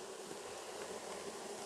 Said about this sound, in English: A few more bees running around on me, which is just fine.